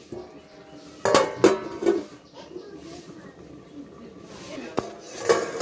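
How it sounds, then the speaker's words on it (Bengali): A lid clanks onto a pot of bitter gourd curry, a few sharp metallic clinks and knocks close by, with a voice speaking briefly around them. "এবার এটি ঢাকা দিয়ে রেখে দেবো 5 থেকে 10 মিনিট"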